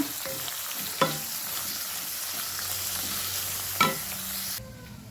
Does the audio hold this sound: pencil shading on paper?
no